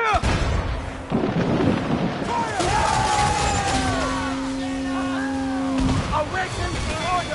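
Ship cannons fire during a naval fight in Assassin's Creed Freedom Cry, several heavy booms landing a second or more apart amid rumbling sea and battle noise, with tonal game sounds drifting between them.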